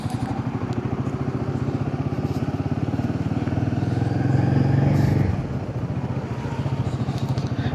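A motorcycle rides through city traffic on an inner road before a left turn, its engine chugging steadily up close and swelling briefly louder midway before settling back.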